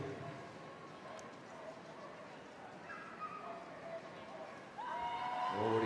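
Flyball dogs bark and yip in the background of a busy Crufts arena, with crowd noise throughout and a louder burst of barking near the end.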